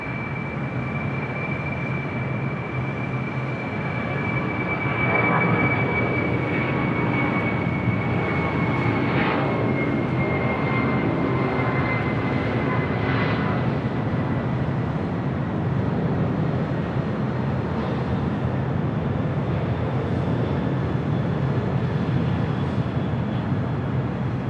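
An Airbus A380 airliner at LAX gives off a loud, continuous jet engine roar with a steady high whine, filling the whole stretch without talk.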